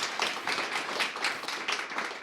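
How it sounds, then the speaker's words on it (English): An audience at a green technology business event claps after a presentation, with dense, continuous applause filling the room throughout the short burst. "let's give a round of applause for his very great sharing"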